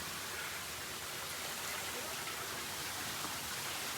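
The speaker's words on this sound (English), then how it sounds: "Oh, we're inside a waterfall" A waterfall pours down outside a cave behind it, a steady broad rushing hiss that fills the space evenly and continuously without pause.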